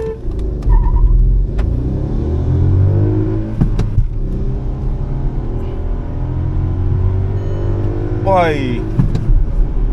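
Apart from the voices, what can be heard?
Volkswagen Virtus and Mahindra Thar Roxx cars in a drag race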